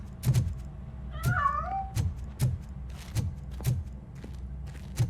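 In Robocop: Rogue City, a cat gives a single short rising meow while heavy footsteps thud steadily at regular intervals around it, with no talking.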